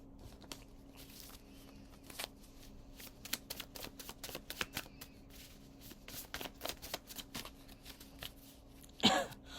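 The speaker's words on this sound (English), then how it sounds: "As I mix up the cards." Playing cards are mixed by hand, producing a run of quiet close flicks and soft slaps in an uneven rhythm, ending with a brighter riffle burst.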